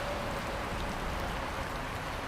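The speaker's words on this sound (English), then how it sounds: "The rain is so intense, and we're starting to see some flash flooding just in this section." Heavy rain pours down during a storm in downtown Louisville, a dense, steady wash of drops drumming on surfaces with no voices over it.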